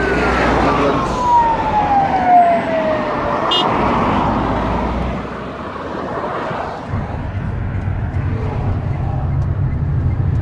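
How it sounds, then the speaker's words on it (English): An ambulance siren wails and sweeps in pitch amid heavy traffic noise in Astana, loud at first and then fading behind the rumble of passing vehicles. "Ambulance."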